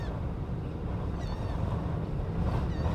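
A fairly strong breeze blows across a flooded stretch of the Port Aransas coast, a constant low roar of wind against the microphone blended with a soft wash of water.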